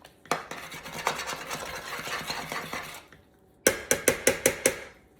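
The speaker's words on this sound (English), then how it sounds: "And give it a stir." A spatula working side to side through thick potato soup in a pot, giving a rapid run of clacking scrapes, then a short pause and a sharper series of distinct taps against the pot.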